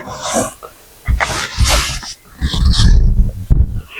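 Dogs in a room make loud close growling, huffing and snorting noises with rough breathy bursts and short pauses, as if playing or tussling, with no talk.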